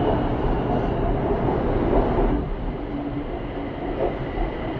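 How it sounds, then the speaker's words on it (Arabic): A BTS Skytrain train in Bangkok rolling by with a steady, loud rumble of wheels and carriages, easing slightly in intensity midway, heard close up with no voices. "هذا البي تي اس"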